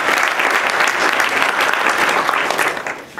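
Steady, dense clapping from a seated audience at a legal education panel greets a professor, loud and sustained before fading slightly at the end, with no voices over it.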